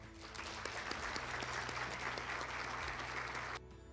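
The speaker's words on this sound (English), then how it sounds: "Let's give her a round of applause." A room full of people applauds at a blood drive charity event, a steady even wash of clapping that cuts off abruptly near the end, leaving quiet room tone.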